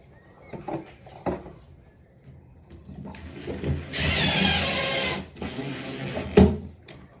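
A power drill drives longer screws into timber backing while a bar shower is fitted, giving a couple of seconds of loud whirring near the middle, framed by light handling clicks and knocks.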